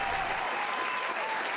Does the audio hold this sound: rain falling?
no